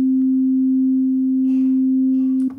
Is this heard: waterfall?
no